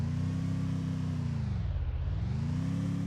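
An auto rickshaw engine in the Free Fire MAX video game hums steadily and faintly, its pitch dipping briefly in the middle then rising back as it drives on.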